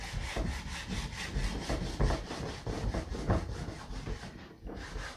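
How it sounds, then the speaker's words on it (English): Hand sanding along painted wood edges with sandpaper, a steady rhythmic rasping of quick back-and-forth strokes, close and moderately loud, with no talking. "So I'm just going to start on the edges over here and take my sandpaper here and then start sanding."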